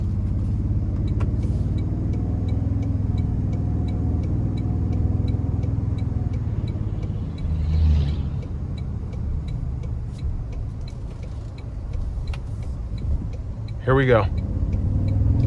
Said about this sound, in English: Now I'm gonna put it into sport mode and we're gonna see what this thing can do getting on the interstate.